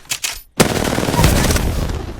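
Gunfire from hip fire in Apex Legends, aimed at a practice target: a brief pop, a short gap, then a loud sustained burst of rapid automatic shots close up.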